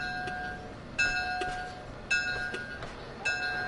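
Train passing in Train Sim World 2020 on an Amtrak Keystone run, heard as steady rail rumble with bright horn-like tones and clattering bursts repeating roughly every second, fairly loud and close, with no talking.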